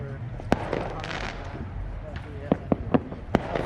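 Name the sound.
fireworks going off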